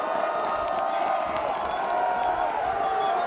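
A big stadium crowd roars in a steady, sustained wash of cheering after a sack at a Division III college football semifinal between Wisconsin–River Falls and Johns Hopkins.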